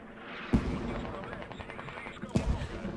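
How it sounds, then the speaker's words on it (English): Mortar fire in the military shooter Squad, two heavy distant thumps about two seconds apart with rumbling tails, under steady commentary talk. "Mortar still coming out right now."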